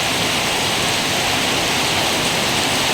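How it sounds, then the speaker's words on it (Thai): Steady, dense rushing noise of heavy rain and wind, loud and continuous throughout without pause. "ลมแรงครับก่อนฝนจะตกตะกี้"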